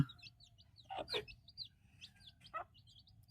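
A naked-neck hen feeding her five chicks, with soft high chick peeps and short chirps scattered throughout and a few louder clucking calls close by, fairly quiet with no voices.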